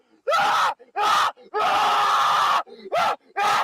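Screaming from a played recording, several loud sustained yells in bursts with short gaps, one long continuous scream in the middle, close and harsh.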